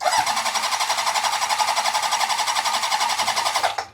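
An old engine on a homemade contraption, freshly kicked over, runs loudly and close with a fast, even chugging beat for about four seconds, then cuts off abruptly.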